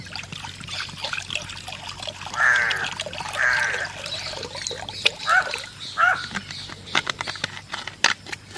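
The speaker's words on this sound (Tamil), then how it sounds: "இதில் தண்ணியை ஊற்றி வச்சுக்கலாம்." Cold water trickles and dribbles into a bowl in short pours, with soft clinks and handling noises between them.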